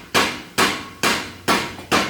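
A borewell drilling rig thumps out five heavy, evenly spaced blows, each sharp strike decaying quickly before the next, loud and close with no talk.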